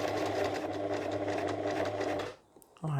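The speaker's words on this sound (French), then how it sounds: "on va venir coudre jusqu'à ce trait-là" Close, steady sewing machine stitching on fabric for a shower sponge runs continuously for over two seconds, then stops abruptly, followed by a short quiet gap and a faint handling noise.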